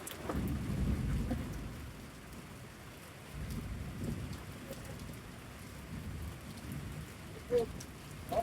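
Steady rain pours over a rooftop garden, a continuous hiss of drops on surfaces with a few low rumbles swelling and fading beneath it, and one sharper knock near the end.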